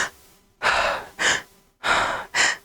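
A person imitates an anime-style gasp by exhaling and then inhaling, giving four close, sharp breathy gasps in an uneven rhythm with short silences between them.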